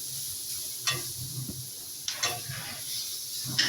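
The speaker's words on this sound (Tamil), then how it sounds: "ஒரு மிக்ஸ் பண்ணிக்கலாம், அதாவது கிளறி விட்டுக்கலாம். நெட்டி வெங்காயம் அடி பிடிச்சிரும்." Chopped onion and cabbage are stirred in a frying pan for a wheat momo filling. A faint, low sizzle runs throughout, broken by a few brief utensil scrapes against the pan.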